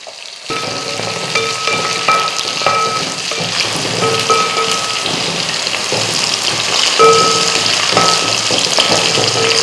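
Small shallots and peeled garlic cloves fry loudly in a pan for Tamil raw mango vathal kuzhambu, a dense, continuous crackling sizzle like heavy rain, close and steady throughout.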